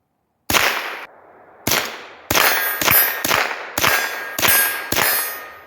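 A rifle fired with flip-up iron sights sends about eight sharp shots onto a steel target, each crack followed by a bright metallic ring, in quick succession.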